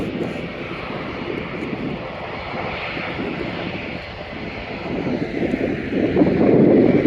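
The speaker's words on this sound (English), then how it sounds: "it looks like she's taxiing out for takeoff" A Ryanair Boeing 737-800 taxis out for takeoff at Manchester Airport, its jet engines a steady broad rumble and whine mixed with wind noise that swells louder toward the end.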